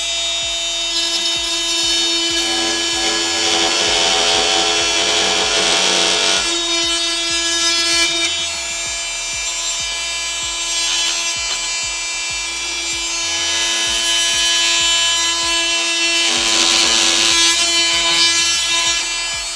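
An oscillating multi-tool cuts timber, holding a steady high buzzing whine throughout with a rough rasping texture. The blade bites harder in a few stretches and the sound swells briefly each time.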